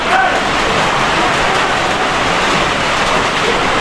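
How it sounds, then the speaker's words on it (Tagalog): Heavy rain pours down in a steady, dense roar that fills the space without pause. "Grabe po talaga dito ang ulan"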